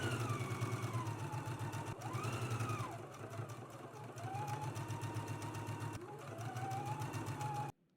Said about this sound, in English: we can stitch close to the straight edge of the lace